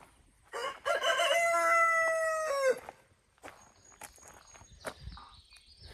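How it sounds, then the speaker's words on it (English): A rooster on an off-grid homestead in Maine crows once, loud and close, with a long drawn-out call, followed by soft footsteps, rustling and faint clucking. "We got our rooster over here doing his thing."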